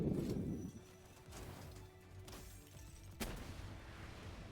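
Gunfire from fighting creatures in the video game Palworld: a dense burst opens the clip, then softer scattered shots and a sharp crack near the end, all fairly quiet.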